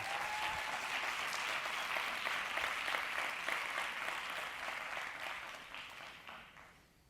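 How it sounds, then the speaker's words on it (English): Keynote audience at a conference gives a big round of applause as someone is called on stage, sustained crowd clapping that holds steady, then gradually fades out toward the end. "Can we give him a big round of applause"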